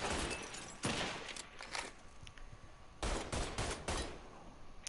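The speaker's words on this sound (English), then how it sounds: "Oh my god, I'm missing all my shots." Bursts of automatic gunfire from the video game Mafia 3 crack out in several loud volleys, separated by short gaps of quieter background sound.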